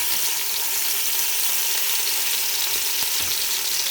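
Yogurt frying with browned onions in a pan for Mughlai pulao gives a steady, close, bright sizzle that crackles continuously with a few soft stirring knocks and no talking.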